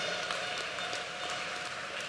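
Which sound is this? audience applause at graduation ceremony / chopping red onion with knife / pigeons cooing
audience applause at graduation ceremony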